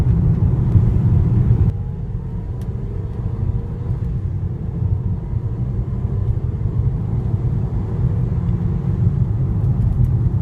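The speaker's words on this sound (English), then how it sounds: "it accelerates really well with a 2-liter turbocharged 4-cylinder engine pushing out 208 horsepower" A 2015 Mercedes-Benz GLA 250 4Matic's 2-liter turbocharged four-cylinder engine drones with a low, steady rumble, loud and close, shifting slightly in tone as the vehicle accelerates.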